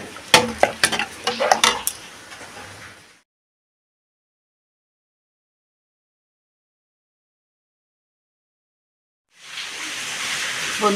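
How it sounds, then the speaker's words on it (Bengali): Spices and khichuri are stirred in a cooking pot, with clattering utensil knocks and scraping over a soft sizzle at first, then a long silence before a steady hiss returns near the end. "এখন আমি একটু নেড়ে দিচ্ছি।"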